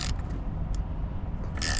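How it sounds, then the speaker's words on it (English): A ratchet is worked to pull the steering wheel off a 1998 Cobra, with rapid clicking and mechanical rattling over a continuous noisy background, close, brief, no talk. "Then we're going to use a ratchet here to start pulling the steering wheel off"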